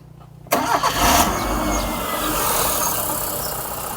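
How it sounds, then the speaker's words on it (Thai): A Mitsubishi Lancer with a 1.6-litre 4G18 engine that has never been converted to gas fires up loudly after a brief crank, then settles straight into a steady, even idle. "ผมลองสตาร์ทเครื่องให้ดูครับ"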